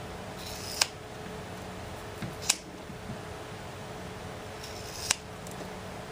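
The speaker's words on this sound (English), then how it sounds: "And keeping your scissors straight up and down, you've got to make sure you do that." Scissors snip around an unmounted rubber stamp, three sharp, close, isolated cuts spaced apart over quiet room tone.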